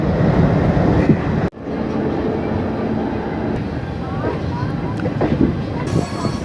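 Haldibari Superfast Express rolling out from Malda Town station, a loud continuous rumble and clatter heard from on board, briefly cut near the start, then steady running noise.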